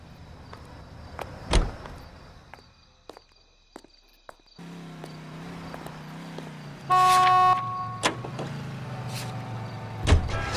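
Car driving in the video game L.A. Noire: a door clunk and footsteps first, then a low, steady engine hum that carries on, with a short horn toot partway through and a few sharp knocks.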